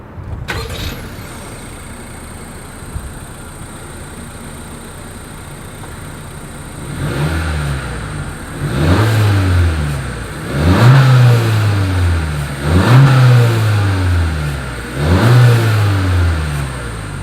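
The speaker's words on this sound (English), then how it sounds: "As always, here is that exhaust clip." A 2020 Honda CR-V's engine idles, then its exhaust revs in several strong bursts, each throaty rise falling back to a rumbling idle, heard up close.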